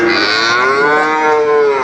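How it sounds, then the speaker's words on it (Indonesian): A calf moos loudly for its mother at a cattle market in Nganjuk, East Java, one long drawn-out bellow with a falling pitch, very close and dominant. "haus ini ngeok ngeok ngeok ngeok nyari indukannya"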